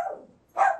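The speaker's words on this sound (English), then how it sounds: "I want to thank the dogs for coming and giving us background noise of animals" Dogs barking in the background of a live radio show, one short bark at the start and a louder, sharper bark about half a second later.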